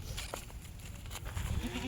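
A pregnant Kathiawari goat gives short bleats close by, heard against a rumbling, noisy background.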